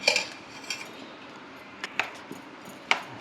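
A spoon stirring cucumber pickle with oil and lemon juice in a bowl: a few faint, sparse metallic clinks and taps against the dish over near silence.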